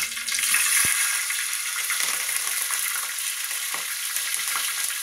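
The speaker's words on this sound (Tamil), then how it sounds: "இப்ப அந்த பச்சை மிளகாவை போடுறேன்." Green chillies sizzle in hot oil in a home kitchen, a bright steady crackle with a single sharp clink of a utensil early on, then continuous frying.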